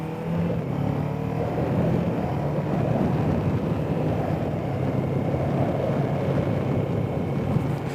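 A 2024 Kawasaki Ninja 7 Hybrid motorcycle ridden without a clutch, giving a steady, continuous drone of motor and road noise with wind buffeting the microphone, unchanged for the whole stretch and with no talking.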